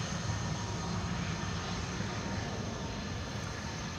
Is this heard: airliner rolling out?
yes